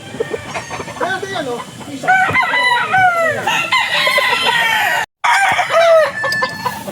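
Bulik gamefowl roosters of large size crow loudly on a farm, several overlapping cock-a-doodle-doo calls with clucking between them, close and continuous, broken by one brief dropout near the end.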